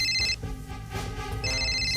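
A telephone rings with a bright electronic trill, two bursts separated by a short pause, clear and close.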